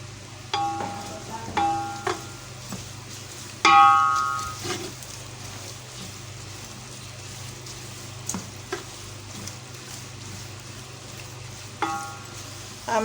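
Grated coconut fries in desi ghee in a pan, giving a soft, low sizzle broken by intermittent scraping and stirring clicks from a spoon, with quiet gaps between strokes and no voices.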